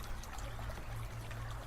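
Lake water pours and trickles steadily into a Survivor Filter all-terrain filter bottle as it fills from a kayak, a continuous close gurgling wash with a low rumble beneath.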